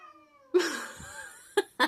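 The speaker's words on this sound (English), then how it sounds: "It's my cat and another cat." Two cats caterwauling nearby: a drawn-out tonal yowl swells into a rough, growling cry, then two short, sharp yowls burst out near the end.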